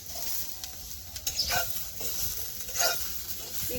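Onion and tomatoes fry in oil in a pan for paneer masala, giving a soft, steady sizzle with a few brief stirring scrapes, fairly quiet and close.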